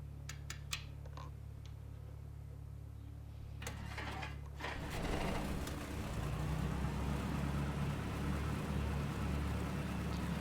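Cessna 172 piston engine starting up: a few faint clicks and a whirring crank give way to the engine catching, then a steady, loud propeller drone takes over for the rest.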